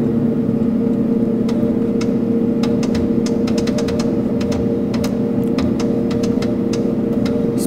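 A simulated aircraft engine at full throttle for takeoff in an FNPT II flight training simulator gives a loud, steady droning hum, broken by a run of sharp clicks and no voices.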